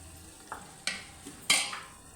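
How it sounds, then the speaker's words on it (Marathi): Spices frying in oil for a tempering, a low steady sizzle broken by a few scraping stirs and a clink of a spoon against the pan, close and moderately loud. "दोन मिनटं एक दोन मिनटं चांगलं तेलात शिजू द्यायचं आहे"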